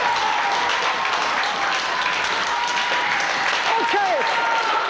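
A prison drama workshop group rehearses curtain-call applause, a dense, steady stretch of clapping from the whole room, with whoops and raised voices cutting through near the end.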